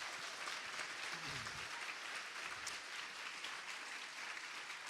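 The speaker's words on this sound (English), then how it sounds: "Let's have one more round of applause for all of our winners and nominees today." Steady, even applause from an awards banquet audience honoring winners and nominees, continuous and fairly distant with a faint low murmur beneath.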